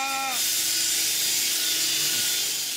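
Power sanding of a Triumph Spitfire bootlid with 60 grit sandpaper gives a continuous, close, bright abrasive hiss. A short tonal sound is heard at the very start.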